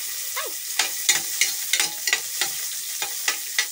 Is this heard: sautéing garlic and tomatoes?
yes